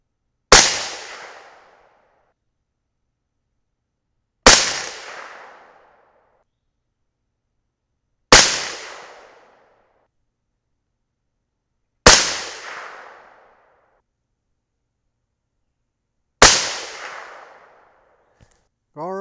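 .223 Remington rifle firing 65 grain Cutting Edge MTH bullets over a 25.0 grain powder charge: five loud, sharp shots spaced about four seconds apart, each cracking out and then ringing down. A brief bit of talk comes at the end.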